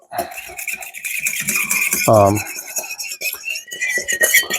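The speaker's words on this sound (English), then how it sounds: "I'm going to stir that up a little bit." Utensils scrape and clink against a pot while pork stir fry sauce thickened with cornstarch is stirred, with a brief louder clatter midway and steady rubbing close by.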